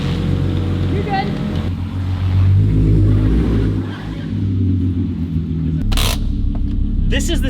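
A car engine in a workshop idles with a deep, loud rumble that swells and surges as it revs, joined by a brief high whine and short bursts of hiss toward the end.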